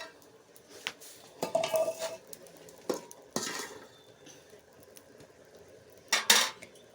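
Fried fritters are lifted out of a pan, heard as scattered metal clinks and scrapes of a utensil against the pan, with short bursts of activity between quiet gaps and a faint sizzle.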